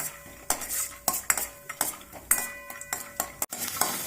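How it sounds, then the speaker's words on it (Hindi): Two tablespoons of peanuts roast in hot oil in a pan, a spoon scraping and clinking against the metal in steady stirring strokes over a soft, continuous sizzle, close up and with no talk. "2 टेबल स्पून मैंने पीनट लिए हैं। अब इन्हें हम रोस्ट करेंगे। इनको सेक लेंगे"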